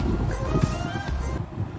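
Icy winter wind gusts over a pond, buffeting the microphone in a rough, continuous roar, strong throughout and easing slightly near the end.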